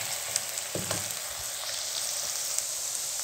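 Ginger and green chili fry in a pan for white matar pulao, with a steady, moderate sizzle and a few soft clinks and scrapes of stirring. No one speaks.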